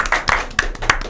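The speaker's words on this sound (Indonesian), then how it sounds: "tepuk tangan buat tim semuanya" A few people clap briefly, a short scattered burst of handclaps close by, lasting about a second.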